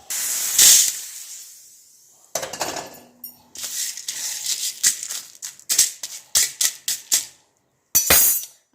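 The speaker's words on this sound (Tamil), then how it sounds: "ஓமம், கசகசா பாருங்களேன், பொரியிறது உங்களுக்கே தெரியுது" Ajwain and poppy seeds roasting in a pan, with a burst of hiss followed by quick crackling pops and spatula scrapes that come in short irregular bursts, close and fairly loud.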